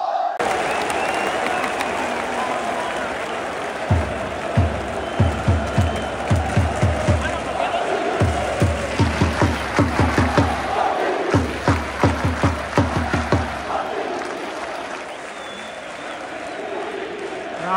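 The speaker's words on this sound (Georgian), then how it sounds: "სასწაული გულშემატკივრა და სასწაული ატმოსფეროა" A football stadium crowd at a Sporting match in Portugal roars steadily, broken by loud rhythmic chanting and clapping bursts through the middle, a dense, distant wash of many voices filling the whole stretch.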